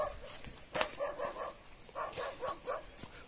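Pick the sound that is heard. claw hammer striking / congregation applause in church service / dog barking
dog barking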